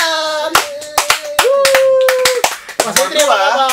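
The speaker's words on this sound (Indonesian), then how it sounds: "Tepuk tangan." Sharp, scattered hand claps from a studio audience on an Indonesian talk show land in uneven bursts over loud, tonal voices that carry through the whole moment.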